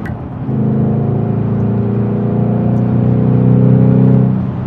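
A stock Ford Mustang GT accelerates hard from inside the cabin, its engine note a loud, sustained drone that climbs steadily in pitch for about four seconds before easing off, with no talking.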